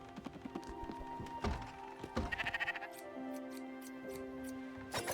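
A sheep bleats in the video game Spiritfarer, a couple of short wavering cries amid soft footstep thunks, light clip-clop taps and quiet game ambience.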